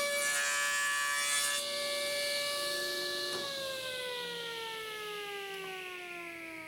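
A table saw fitted with a jig cuts the cheek of a half-lap joint in wood: a steady high motor whine with harsh cutting noise at the start, then the pitch sags as the blade winds down.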